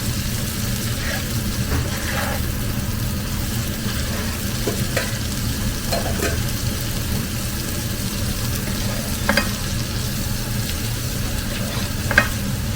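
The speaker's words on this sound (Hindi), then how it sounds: "छौंक लगा दिया है सब्जियों का। ये आवाज सुनिए थोड़ी देर, बड़ी स्ट्रेस बस्टर आवाज है।" Vegetables sizzle and crackle steadily in a hot pan as they are tempered and stir-fried, a continuous close frying hiss with occasional stirring clinks and spatter pops, no voices.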